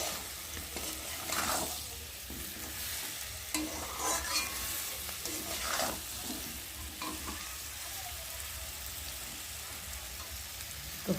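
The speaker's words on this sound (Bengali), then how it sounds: "জিরের গুঁড়ো দিলাম, দিয়ে একটু সবজিটা ভালো করে নাড়াচাড়া করবো।" Vegetables, including pumpkin and potato, frying in a pan with cumin powder, with steady sizzling under repeated scraping strokes of a spoon as they are stirred for a khichdi.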